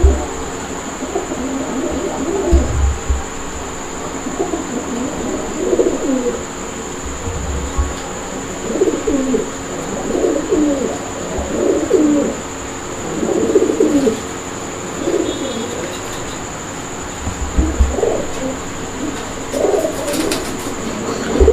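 Gola breed pigeons coo repeatedly in low, throaty bursts at close range over a steady background hum, the calls recurring throughout.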